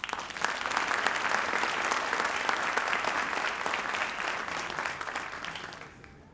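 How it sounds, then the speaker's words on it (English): Audience applause at a Dean's List recognition ceremony for Fall 2025 awardees: steady, dense clapping from a large crowd that holds evenly for about six seconds before fading out. "Please join me in applauding the excellent work of our Dean's List students."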